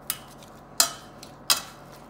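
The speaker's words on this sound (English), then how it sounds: "And then you're just gonna mash those potatoes like so" Boiled potatoes being mashed with a potato masher, three sharp clanking knocks spaced evenly, each a short metallic clatter against the pot, with quiet between.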